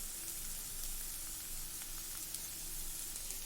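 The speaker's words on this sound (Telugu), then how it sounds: "10 మినిట్స్ తర్వాత మన మష్రూమ్ బాగా ఫ్రై అయిపోయిందండి, ఉడికిపోయింది." Mushrooms frying in a pan with pepper and garlic, a faint steady sizzle and soft crackle that holds evenly throughout, with no voices.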